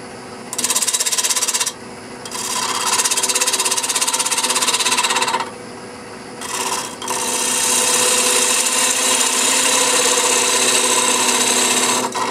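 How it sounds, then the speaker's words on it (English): A wood lathe spinning at about 1200 RPM while a 3/8 inch Ellsworth gouge cuts glued-up wood, heard as a loud steady buzzing scrape in long continuous passes with brief pauses between cuts. "Speed on a lathe is about 1200 RPMs. I'm using my 3/8 inch Ellsworth gouge."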